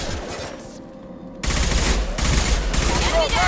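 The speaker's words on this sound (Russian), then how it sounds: "О, как стреляет оружие здесь." Weapon gunfire in the video game Mass Effect 2: a quiet lull, then a sudden loud burst of rapid automatic shots that keeps rattling without pause.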